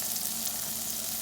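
Tilapia fillets pan-searing in butter in a skillet give off a steady, dense sizzle, close and even throughout with no talking.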